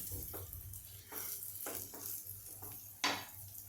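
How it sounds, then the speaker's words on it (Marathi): Grated raw banana and cucumber are stirred in a pan over the turned-off gas. A spatula scrapes in soft, repeated strokes over a faint sizzle and a low hum, with one sharper scrape near the end. Everything is quiet and close, with no speech. "मी गॅस बंद करते आणि याला आता थोडंसं परतून घेते"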